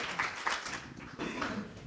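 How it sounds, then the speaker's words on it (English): A round of applause for the Black Plague Brewing team at a startup brewing challenge, steady clapping from a small group lasting a couple of seconds, moderately close. "Round of applause for Black Plague."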